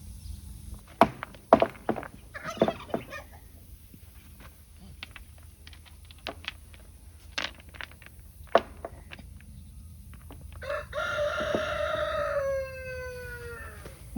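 A rooster crows near the end, a loud drawn-out call rising and falling over about two seconds, after scattered thumps, footsteps and brief speech on a farm.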